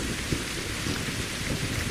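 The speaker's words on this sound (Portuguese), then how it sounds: "essa chuva foi relâmpago" Heavy rain pours in a truck driving video game, a dense steady hiss on the surface with low rumbles of thunder rolling underneath and no voices.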